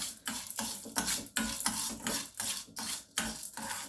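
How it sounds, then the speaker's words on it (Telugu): Chana dal frying in hot oil, stirred in a pan with a utensil: rhythmic scraping strokes about every half second, with faint sizzle beneath, close and fairly quiet. "ఇప్పుడు ఆయిల్ కొంచెం హీట్ ఎక్కిన తర్వాత ఇప్పుడు ముందు మనం పచ్చిశనగపప్పు వేసుకోవాలి. అది కొంచెం ముందు మనం వేయించుకోవాలి."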